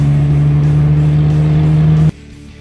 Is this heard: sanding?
no